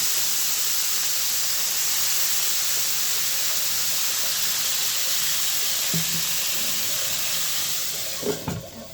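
Water poured into a hot pan of eggplant frying in a little oil sets off a continuous loud hiss of steam, which breaks into brief clatter and sputtering near the end.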